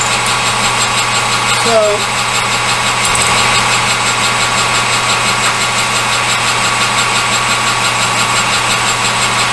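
A lathe runs steadily while turning a small bushing in a home workshop, a constant mechanical hum with a faint whine throughout and a brief spoken word near the start.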